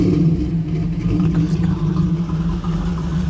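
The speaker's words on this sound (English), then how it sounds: "Hey Benny, rev the engine for me." A 1991 Camaro Z28 with a five-speed manual, G92 performance package and performance exhaust revs nearby, a loud, deep, steady rumbling drone with slight swells, heard alone without voices.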